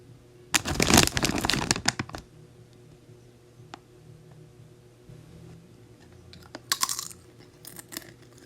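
Ghost pepper chips crunched and chewed close up, a dense burst of loud crisp bites followed by quieter pauses and a second shorter round of crunching.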